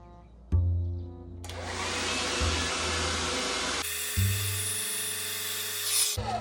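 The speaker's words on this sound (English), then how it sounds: "I'm just going to go ahead with the blow dryer and see what I can do" A hair dryer set on hot switches on and blows steadily at close range onto a refrigerator's door water dispenser, its whirring motor changing pitch as the settings shift, then cuts off briefly and restarts.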